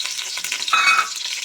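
Chopped onion frying in half a cup of oil for chicken biryani, a bright, steady hiss and crackle, loud and close, with no talking.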